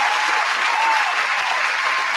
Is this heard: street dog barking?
no